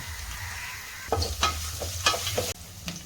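Chopped onion frying in a pan, a continuous sizzle broken by several quick scraping strokes of a spoon stirring, close and clear.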